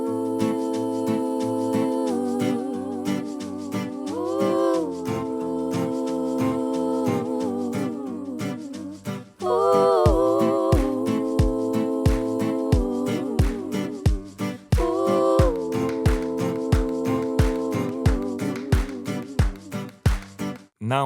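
Reggaeton beat built in a music production session: a steady kick drum and sharp claps drive a looping synth chord pattern, with a short drop before the full groove returns, loud and alone without talk.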